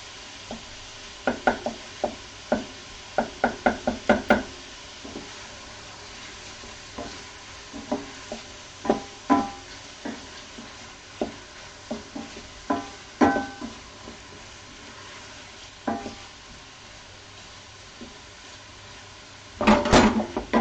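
Pieces of fish are stirred into a hot pan for a keto fish pie, with scattered scraping and clinking utensil strokes, some in quick clusters, over a faint sizzle.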